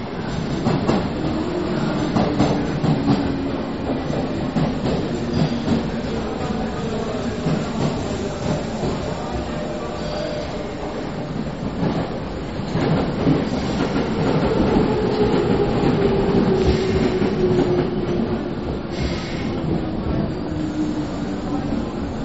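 A Yamanote Line train rumbling and squealing along a platform at Shinjuku Station, Tokyo, in 2003, steady and loud throughout, with Japanese announcements and station noise mixed in.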